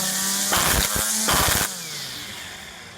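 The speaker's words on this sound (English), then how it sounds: "all you have to do is bounce it up and down while it's running" An EGO 56V string trimmer runs with a steady whine, and two bursts of clattering thumps come as the head is bounced on the ground to feed line, after which the motor winds down.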